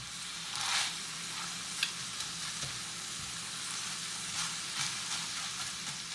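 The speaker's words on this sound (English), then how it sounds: "I'm mixing in the garlic to cook it a little bit" Beef, garlic, celery and onion sizzle and fry steadily in a pan, a continuous close crackle with a few scrape-like stirring bursts and no talking.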